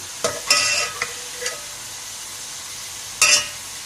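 Onions frying toward golden brown for Sindhi biryani, a soft constant sizzle punctuated by a few sharp scraping stirs of the spoon in the pan, close and without talk.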